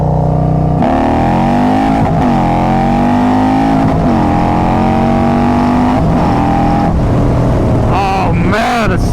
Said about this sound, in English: I could never punch the gas without lighting up the tire.